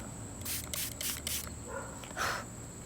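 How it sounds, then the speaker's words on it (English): Water sprayed from a spray bottle onto a 180-million-year-old ammonite fossil: four quick hissing bursts in a row, then one more after a short pause, close to the microphone with no talking. "Now I'm gonna spray."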